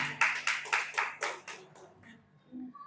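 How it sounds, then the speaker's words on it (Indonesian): A church congregation clapping in quick bursts, a run of sharp, fairly close claps that thins out and fades, with a faint voice near the end. "Kasih tepuk tangan."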